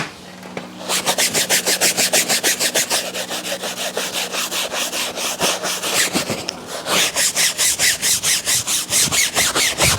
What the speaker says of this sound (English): Right, I am going to start scrubbing.